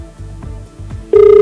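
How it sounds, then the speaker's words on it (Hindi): A telephone rings while a call is being placed during a live news report, a few low pulsing rings followed by a sustained steady tone, close and loud, with no talking. "और अब हम फोन लगा रहे हैं विनय"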